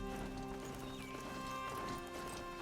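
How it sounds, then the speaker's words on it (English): Horse hooves clip-clopping steadily while riding in a video game, under continuous game music and ambience. "I'm riding my horse and I'm doing nothing"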